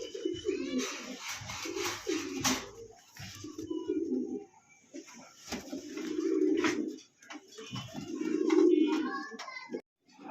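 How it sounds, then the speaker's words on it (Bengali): A pair of Chuitthal Kaldam pigeons cooing close by, several low throaty coo phrases repeating every couple of seconds with rustling and small knocks between them, and a voice faintly present. "এক জোড়া দেখার মতন চুইঠাল কালদম কবুতর"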